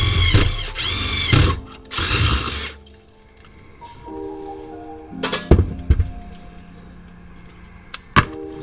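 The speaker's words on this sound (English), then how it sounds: "we'll drill it to the bigger size." A hand drill boring a hole in metal to mount a shifter plate bracket, heard as short separate bursts of whirring drilling, loud and close, with brief clicks and pauses between runs.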